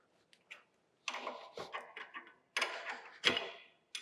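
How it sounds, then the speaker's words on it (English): Bolts are tightened down on a restored bandsaw's bottom wheel, with close, quiet bursts of ratcheting clicks and metallic turning in short separate runs. "we're going to tighten all these down"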